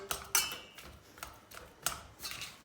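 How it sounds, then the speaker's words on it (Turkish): A spoon clinks and scrapes against a pot while boiled potatoes are mashed, a few sharp metallic taps and softer scrapes at an irregular pace, close by and without speech. "bir kaşık yardımıyla patatesleri bir ezeceğiz"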